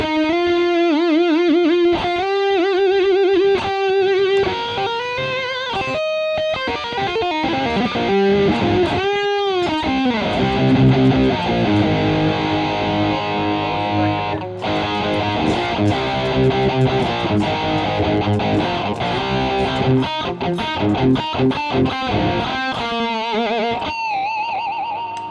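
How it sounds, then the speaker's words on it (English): A distorted electric guitar, a Stratocaster-style model, plays sustained, crunchy chords and note bends, loud and thick with fuzz, continuing steadily without any voices. "Then we've got some distortion."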